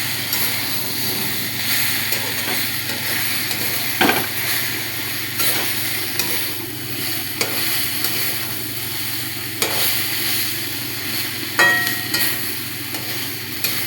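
Water lily stems (shapla) fry in a pan with a fish head and fish pieces, giving a constant close sizzle. Several scraping stirring strokes come at intervals, and no one speaks.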